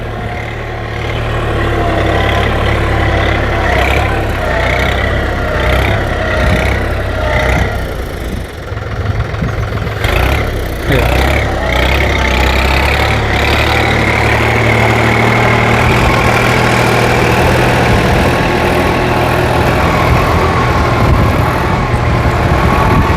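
A New Holland TT3.50 tractor engine idles steadily up close, a constant low rumble with a few brief mechanical clunks and shifts partway through.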